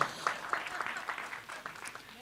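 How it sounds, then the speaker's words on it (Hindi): Audience applause at the Aa Gaya Hero film trailer launch, a faint brief patter of clapping mixed with crowd murmur and voices. "शिल्पा जी के लिए जोरदार तालियां हो जाएं"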